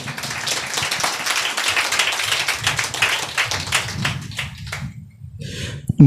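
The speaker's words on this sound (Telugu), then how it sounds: "చప్పట్లు కొట్టండి" A church congregation at a Sunday service claps hands together, a dense, fairly loud run of clapping that thins into a few scattered claps before a brief pickup at the end.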